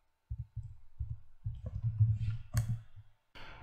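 Keys on a computer keyboard are pressed to type an administrator password, giving a quick run of soft, close clicks and taps in small bursts against a quiet background.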